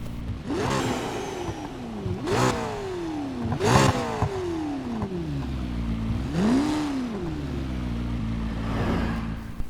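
The 3.8-litre V8 of a McLaren P1 GTR in the racing game Need for Speed Heat revs up and down in several rising and falling sweeps, close and loud, alone without talk.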